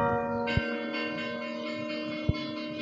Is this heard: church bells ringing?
yes